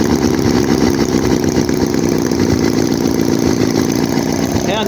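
A vintage Chinese Holt H75 four-cylinder model engine, warmed up, runs close and loud with a steady, even buzzing drone and no change in pitch.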